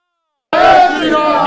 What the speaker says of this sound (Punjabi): ਜੈਕਾਰਾ ਸ਼੍ਰੀ ਰਾਮ ਜੀ ਦਾ